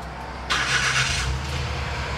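A custom all-wheel-drive camper van's engine cranks and catches, a sudden burst of noise settling into a steady idle rumble, close by.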